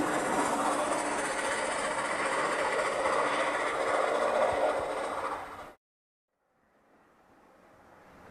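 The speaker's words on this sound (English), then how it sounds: "It's a speeding streamliner, a Rock Island diesel electric." A Rock Island diesel-electric streamliner on a scale model railroad runs with a steady, loud rumble and rattle for several seconds, then cuts off abruptly and returns as a faint hum.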